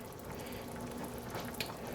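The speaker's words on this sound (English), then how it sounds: "We want it to keep boiling." Broth simmering at a steady boil in a paella pan set over a burner, a continuous low bubbling hiss with faint crackles, close and fairly quiet, no talk.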